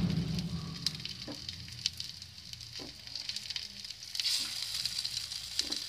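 Wheat flour snack pieces frying in a pan, a continuous crackling sizzle with occasional sharp pops and clicks as pieces are placed or turned, close and fairly quiet, no voices.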